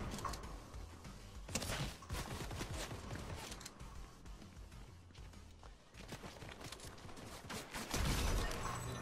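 Gunfire in a video game, a busy run of sharp loud bursts over constant rumble and mixed game noise, with a heavier cluster of shots near the end.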